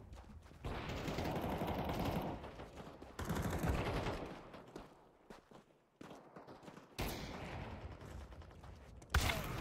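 Bursts of rapid automatic fire from a weapon in Counter Strike 2, loud and close, arriving in several sustained volleys separated by short pauses, with faint footsteps and mechanical clicks in between.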